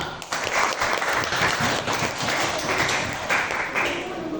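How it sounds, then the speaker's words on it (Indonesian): Students in a classroom clap for a group, a brisk burst of many hands at moderate volume with slight rises and falls, no talking over it. "tepuk tangan untuk kelompok 5"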